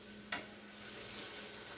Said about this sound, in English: Sizzling away, the way it sizzles.